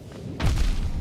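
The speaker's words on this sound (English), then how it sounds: "the explosion hitbox is massive" An in-game explosion goes off in a video game as a sudden deep boom that swells and rumbles on for the rest of the moment, loud against a quieter background of game sound.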